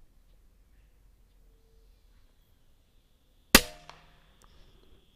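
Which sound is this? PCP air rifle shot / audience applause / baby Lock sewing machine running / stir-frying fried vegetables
PCP air rifle shot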